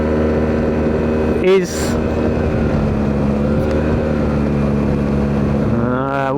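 A Yamaha TMAX 560 scooter's engine and exhaust hum loudly and steadily at close range, with a brief spoken word early on.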